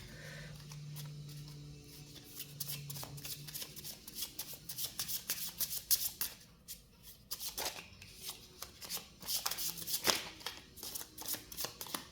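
Angel tarot cards are shuffled by hand in steady, soft riffling bursts that run continuously and sound close and quiet.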